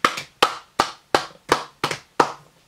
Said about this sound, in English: I have to clap for you, yeah.